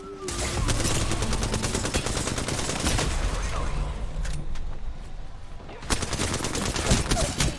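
Rapid automatic gunfire from the Apex Legends shooter game, dense bursts of shots crackling almost continuously with a couple of sharper louder volleys near the end, loud and close.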